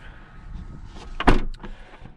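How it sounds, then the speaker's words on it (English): A 2019 McLaren 600LT car door swings shut with a single solid thud, close by, amid faint cabin noise. "And we'll go ahead and close the door."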